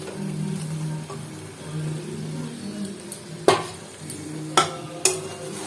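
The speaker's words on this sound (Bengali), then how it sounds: "এবারে ফুলকপি আর আলুটা আমি এতে দিয়ে দেবো" Fried cauliflower and potato tipped into a hot pan, a faint sizzle under kitchen noise, then several sharp knocks and clatters of pieces and utensil hitting the pan near the end.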